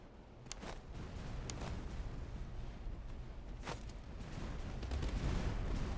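Artillery and massed gunfire in the strategy game Master of Command, with line infantry under bombardment: continuous rumbling battle noise with sharp distant booms and crackling volleys, growing slightly louder toward the end.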